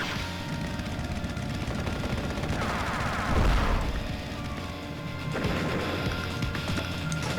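Units exchanging fire in Advance Wars: Days of Ruin, with dense crackling gunfire and explosive bursts over a busy background, one heavier blast standing out midway and another flurry following.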